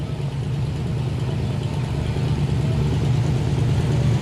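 Off-road rock crawler car engine idling and rumbling through rocks at a 4WD challenge course, a steady low throaty drone with slight surges, continuous and fairly close.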